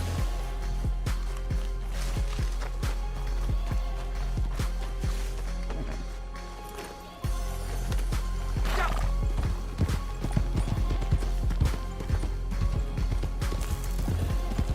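Horse hooves pound rhythmically at a fast gait in the Red Dead Online video game, with steady close clip-clops over a low rumble and a brief pause midway.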